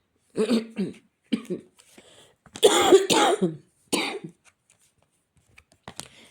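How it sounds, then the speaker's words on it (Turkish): Several loud, close coughs come in short bursts, with a throat-clearing sound among them and brief pauses between. "e tabi arada birazcık geliyor bu öksürük."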